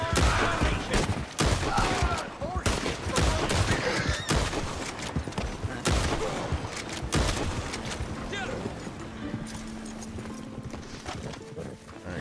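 Rapid bursts of video game gunfire from a repeater rifle loaded with express rounds, crackling in dense volleys during a wagon fight, mixed with horse hooves clopping and players' voices talking over the shots.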